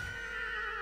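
A horse whinnying in a first-person shooter video game, one brief, fairly loud whinny with a steady high tone lasting under a second.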